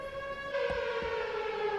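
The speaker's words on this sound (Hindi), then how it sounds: "और ये साउंड था एक सायरन की, जैसे कि कंपनी में कोई इमरजेंसी मीटिंग या लंच टाइम वगैरह के लिए शायद बजाया जाता है।" A factory siren from the film Animal wails as a steady, loud tone, sounding alone and unbroken throughout, with a faint low thump or two underneath.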